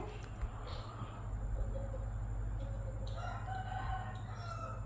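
A rooster crows over a steady low rumble, with chickens clucking nearby and faint voices in the background.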